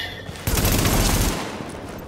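A sustained burst of machine gun fire in The Division, loud and dense, a rapid rattle lasting about a second before trailing off.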